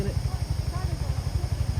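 Motorcycle engine idles close by at a wedding gathering, a low, rapid, pulsing putter with steady rhythm and a constant background hiss.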